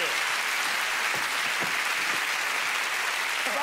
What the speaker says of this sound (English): A big round of applause, yes.